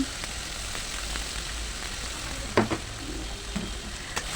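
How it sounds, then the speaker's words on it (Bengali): Onion paste fries in a pan alongside chopped ingredients, giving a quiet steady sizzle with an occasional sharp clink and scrape of a stirring spoon. "এই যে পেঁয়াজ বাটা দিয়ে দিলাম"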